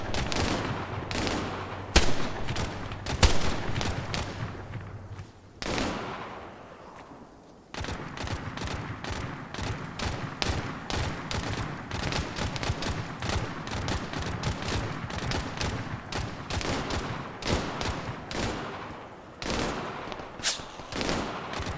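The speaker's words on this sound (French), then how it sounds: "Enemy fire! Man, 100 meters front." Gunfire in the video game ArmA 3 rolls on as dense automatic bursts and single loud shots, nearly continuous for over twenty seconds with a brief lull near the start.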